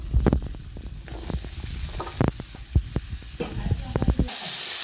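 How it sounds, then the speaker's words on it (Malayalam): Wild bitter gourd, carrot and potato drop into hot oil in a pan and fry with a loud sizzle, broken by irregular thumps and stirring scrapes, before the sound cuts off near the end. "ഇനി അതിലോട്ട് നമുക്ക് കാട്ടുപാവയ്ക്കും ക്യാരറ്റും ഉരുളക്കിഴങ്ങും കൂടി ഇട്ട് കൊടുക്കുക."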